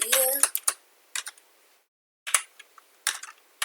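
Someone types on a computer keyboard while writing code in Scratch, producing clusters of close, crisp key clicks separated by short silent gaps.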